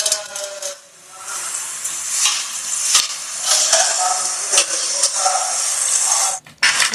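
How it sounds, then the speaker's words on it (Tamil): Mustard, fenugreek and fennel seeds splutter in hot oil for a fish curry, a steady bright sizzle with crackling pops that briefly dips near the start and cuts out near the end. "கடுகு, வெந்தயம், சோம்பு எல்லாம் நல்லா பொரிஞ்சிருச்சு"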